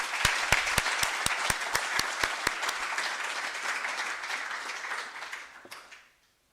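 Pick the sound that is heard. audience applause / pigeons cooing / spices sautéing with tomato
audience applause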